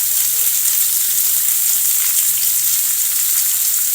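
Pork, vegetables and bok choy stir-frying in a pan, a steady close hiss and crackle of sizzling oil that runs without a break under faint background clatter.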